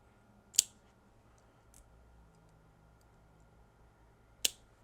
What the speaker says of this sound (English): So we're going to cut this in half.